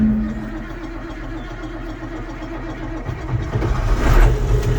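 An old Perkins diesel engine, dosed with ether, cranks and catches near the listener. A low, rough chugging builds, then swells into a louder throaty rumble as the engine fires and picks up revs toward the end.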